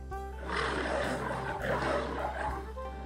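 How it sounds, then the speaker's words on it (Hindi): A cartoon lion roars inside a cave, a low, rumbling, sustained growl with a hollow echo, over a steady low hum. "शेर अपनी दहाड़ भरी आवाज में बोला"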